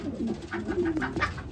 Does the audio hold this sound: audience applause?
no